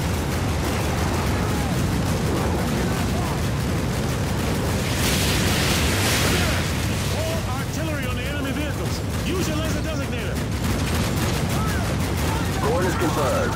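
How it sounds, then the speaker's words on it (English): Artillery explosions in Call of Duty: Modern Warfare form a dense, constant roar of booms and gunfire that never lets up. Voices can be heard talking over the din. "Mission received. Artillery inbound."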